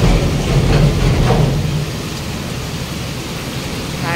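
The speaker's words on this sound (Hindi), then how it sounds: "हायरे की वर्षा" Heavy rain pours down continuously, a dense loud wash of noise with a deeper rumble in the first half that eases off partway through.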